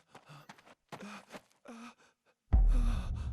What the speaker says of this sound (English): this motherfucker's panting is actually kind of annoying